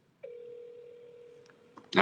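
A single long, steady ringback tone over a phone line, then a burst of noise cuts in at the end.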